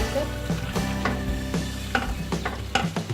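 Chopped tomato added to arvi (taro root) in a pan, a continuous sizzle and fry with intermittent stirring scrapes, close and fairly loud, no talking.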